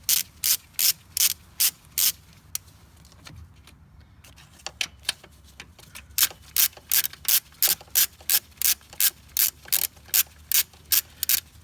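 A hand ratchet tightens bolts on an aluminum EGR block-off plate on a Duramax LML diesel, crisp rhythmic clicking in repeated runs with a short lull partway through.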